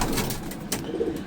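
Pigeons coo softly inside a racing-pigeon loft, with low murmuring calls and faint fluttering over a close, busy background.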